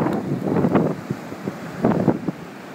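Ocean waves breaking on a shore, heard as broad, rushing surges that rise and fall twice, loud and close, with strong wind buffeting the microphone and children's shouts in the background.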